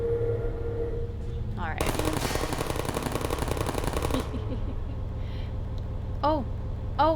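Rapid automatic turret gunfire from the video game Portal, a loud sustained burst of about two and a half seconds over game ambience, with people talking before and after.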